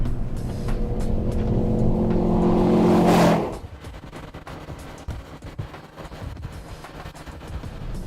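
A Mini Cooper drives close by, its engine rising steadily in pitch as it accelerates. The note then drops sharply as it passes or lifts off, and a rough road rumble carries on afterward.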